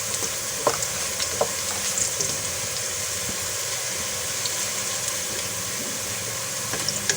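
Onions fry in a pan for matar pulao, turning light brown, with a dense continuous sizzle and scattered stirring scrapes and clicks, close and fairly loud, with no voice.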